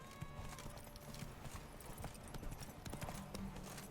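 A horse gallops in the Witcher 3 video game, rapid rhythmic hoofbeats close and steady with brief whinny-like tones in the game mix.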